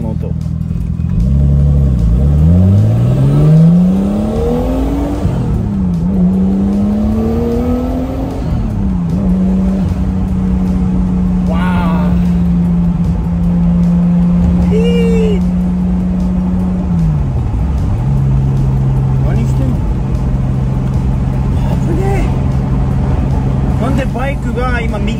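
Nissan Skyline engine revving up and down in a steady, loud run, rising and settling through several pitch sweeps, with someone talking over it throughout.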